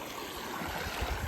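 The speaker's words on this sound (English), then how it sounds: "there is a lot of water in this creek" A swollen creek rushes steadily past, a dense, continuous wash of flowing water close by with no talk over it.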